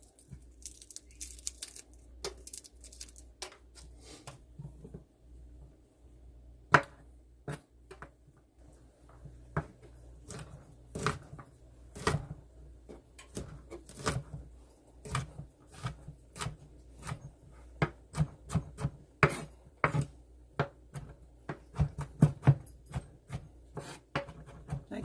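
Three garlic cloves being minced with a knife on a cutting board, quiet irregular chopping taps and scrapes, closer and more frequent toward the end.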